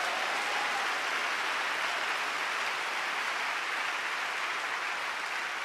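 Sustained applause from a church congregation at a special national prayer meeting, a dense, steady wash of clapping filling a large hall with no one speaking over it.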